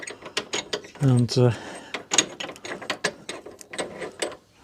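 A ratchet clicks in quick bursts as it slackens a large front bumper bolt on a Rolls-Royce Silver Spirit III. The clicking is close and uneven, with someone briefly speaking between the bursts.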